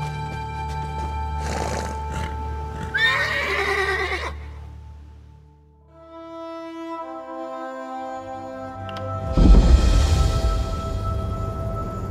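Horses in The Elder Scrolls Online whinny in two loud, quavering neighs, separated by a stretch of sustained musical tones, with a heavier snorting burst near the end.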